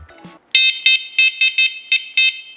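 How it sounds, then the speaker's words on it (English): An electric scooter accessory horn sounds a series of shrill, piercing electronic beeps, loud and close, in short uneven bursts after a brief bit of handling noise. "And for the horn,"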